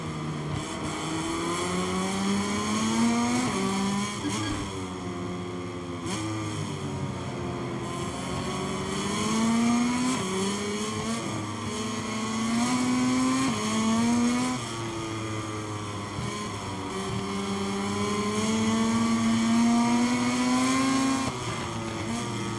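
Racing motorcycles in the MotoGP 23 video game roar off the line at the start of the Jerez Grand Prix, a dense, continuous engine drone with rising and falling pitch as bikes shift gears, loud and steady with no talking.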